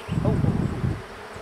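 Bees in a hive box give off a brief, close, dense buzzing hum that swells and then fades within a moment.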